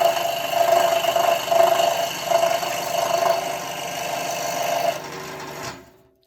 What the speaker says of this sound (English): we're going to do this cutting on the scroll saw